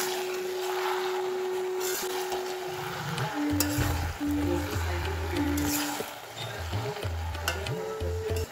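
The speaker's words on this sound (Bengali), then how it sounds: "সরষের তেল দিয়ে ভেজে নিলাম।" Luchi fry in mustard oil in a home kitchen, sizzling steadily while a ladle or utensil stirs and clinks in short repeated bursts, all close by.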